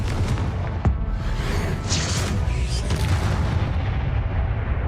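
Confringo fire spell going off in the Hogwarts Legacy video game: a sharp blast followed by a dense, rumbling roar of sustained noise, loud and close throughout.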